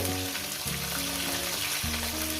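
Potatoes and vegetable stems sizzle in a pan for a fish-head and Malabar spinach chachchari, a steady close crackle with no talk.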